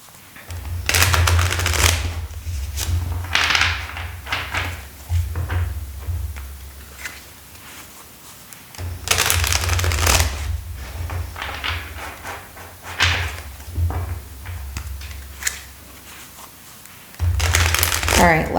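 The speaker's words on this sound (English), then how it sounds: "All right, last shuffle." A deck of tarot cards is shuffled in several bursts of crisp riffling and flicking, close to the microphone. Quieter stretches fall between the bursts.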